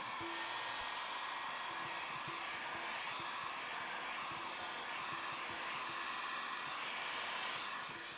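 A heat gun or hair dryer runs as a steady, loud blowing whoosh with a constant motor whine while warming a decal on a 2017 CRF450 rear fender, unbroken throughout and without speech.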